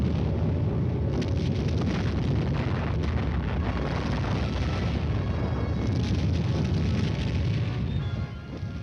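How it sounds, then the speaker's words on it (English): Artillery lays down a barrage of conventional, non-atomic fire on a 1957 armored battlefield: dense, rumbling booms and blasts merge into a continuous roaring wall of low thunder, loud and sustained, easing slightly at the very end. "the supporting elements lay down a curtain of non-atomic fire"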